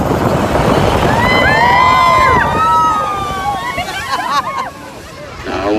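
Water surges and splashes loudly as an amphibious duck tour boat plunges into Lake Delton, Wisconsin Dells, with voices and cheers rising over the churning spray.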